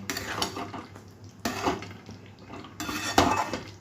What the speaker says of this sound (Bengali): এবারে আমি ভালো করে আবার নাড়িয়ে নিচ্ছি